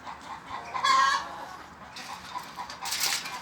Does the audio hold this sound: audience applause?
no